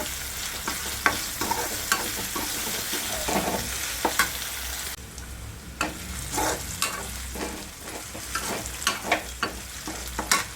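Onion frying in a pan for a spicy Sangli-style mixed vegetable dish, steady sizzle punctuated by repeated sharp clanks and scrapes of a spoon stirring, close and continuous.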